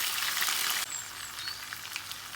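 A large onion goes into a hot pan for a spinach and prawn bhuna, setting off a loud, steady broadband sizzle that drops slightly in level as it lands, then keeps crackling.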